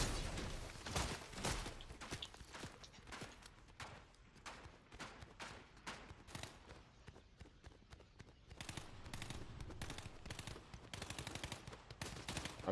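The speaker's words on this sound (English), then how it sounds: "They're down there shooting." Rapid bursts of gunfire in the Fortnite video game, with dense volleys of shots crackling in quick succession and firing that grows denser toward the end, heard at a low overall level.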